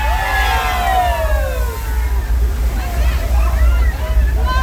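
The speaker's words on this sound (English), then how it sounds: "There's a flood coming." Loud rushing, sloshing water surges continuously from a flood special effect on the Universal Studios Hollywood studio tour, with excited voices calling out over the roar.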